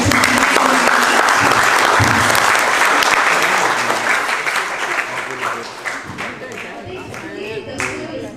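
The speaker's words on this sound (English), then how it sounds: "So big round of applause for" An audience at an education week event breaks into loud, sustained applause that gradually thins into scattered claps, with some voices audible as it dies down.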